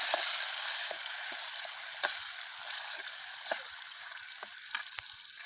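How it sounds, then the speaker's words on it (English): Blended native tomatoes go into a pot of tomato stew and get stirred, giving a steady broadband sizzle and bubbling with scattered soft clicks and knocks of a spoon against the pot, close and fairly loud. "Adding my blended native tomatoes. And stir."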